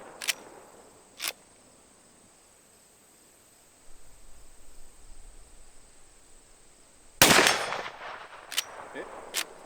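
Gunshots ring out outdoors from a gun fitted with a UUQ Mini Reflex red dot sight: several sharp, loud cracks at irregular intervals over a continuous background of buzzing insects.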